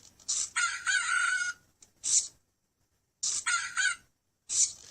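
A programmed rooster crow sound, set off by a light sensor, plays twice from a small speaker: two close cock-a-doodle-doo calls, each cut off sharply, separated by a second of silence.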